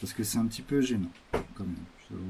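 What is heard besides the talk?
No distinct noise like a dog, phone or traffic.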